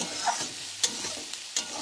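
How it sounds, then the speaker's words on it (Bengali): Beans, carrots and cabbage stir-fried together in a pan, a brief burst of sizzling with a few sharp scraping stirs, close and clear with no voices. "এবার এই তিনটাকে আবারও খুব ভালো করে ভেজে নেব"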